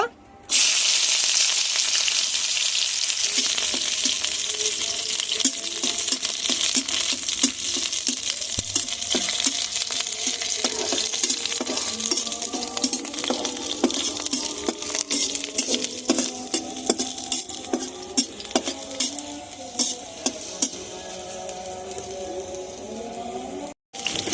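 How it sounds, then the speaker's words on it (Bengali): Two native garlic cloves frying in hot oil for a chicken bhorta, a steady close sizzle with occasional stirring scrapes running throughout, with faint voices now and then. "তেল গরম হয়ে গেছে আমি এখানে দুটো দেশি রসুন বেছে রেখেছি রসুনগুলো ভেজে নেব"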